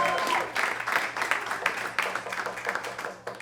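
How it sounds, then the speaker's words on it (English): Steady applause from a comedy club audience on New York's Upper West Side, a dense patter of many hands clapping for a few seconds before fading out. "Applause for the Upper West Side, eh?"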